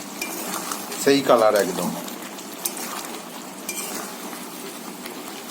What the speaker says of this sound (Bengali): এই যে চলছে মাংস কড়া রান্না।